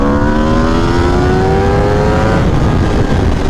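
Aprilia RSV4 Factory 1100 sport motorcycle accelerating hard in second gear, a loud, steady engine howl with rising harmonic tones that climb and then shift down briefly, rough rumble underneath throughout.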